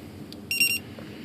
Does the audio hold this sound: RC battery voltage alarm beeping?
yes